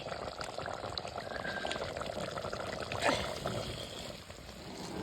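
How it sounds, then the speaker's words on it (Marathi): Hot water poured into a pot on a wood-fired clay stove, a soft continuous splashing trickle with a brief stronger gush midway, fairly quiet and close. "आता ना ह्याच्यात घालायचंय गरम पाणी"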